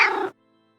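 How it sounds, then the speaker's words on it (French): A house cat meows once on a bed, a short close, clear call lasting about a third of a second, then quiet. "Sur son lit, Barbotte la regarde d'un air de jugement et miaule."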